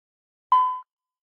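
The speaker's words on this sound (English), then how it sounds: "Each time before Linda starts talking, you'll hear a beep" A single short electronic beep, clean and steady in pitch, sounds once in otherwise total silence.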